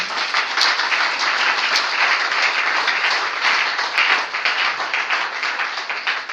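Church congregation applauding loudly and steadily throughout, dense sustained clapping from many hands in a large room with no talk.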